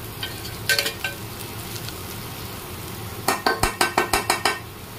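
Onions fry in a pan with a soft steady sizzle, broken near the end by a quick run of about eight sharp metal scrapes and clinks as a spoon stirs them. The sounds are close, and no one speaks.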